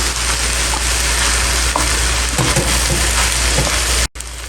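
Shrimp dropped into a hot pan with rice sizzles and fries loudly and steadily, with a dense crackle throughout that stops abruptly near the end.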